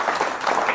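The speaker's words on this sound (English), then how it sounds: "let's give Eric a round of applause for coming up" Audience applause for a guest named Eric coming up on stage, a dense, steady burst of clapping from a crowd filling the whole moment.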